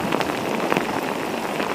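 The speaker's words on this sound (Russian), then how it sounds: "Очень сильный дождь. Очень." Heavy rain pours down as a dense, steady hiss, with scattered louder drops pattering close by. No voices are heard.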